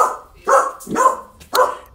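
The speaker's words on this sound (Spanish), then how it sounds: "es mi perrito que está ladrando" A small pet dog named Rocky barks close by in three sharp, loud bursts spaced roughly half a second apart, with brief quieter yelps between them and no talking.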